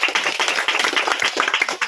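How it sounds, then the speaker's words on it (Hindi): Dense, close clapping from an audience honoring a company owner at a gathering, a steady burst of many hands with no speech over it. "एक बार जबरदस्त तालियां कंपनी का मालिक के लिए।"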